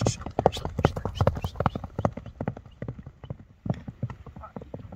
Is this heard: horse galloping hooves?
yes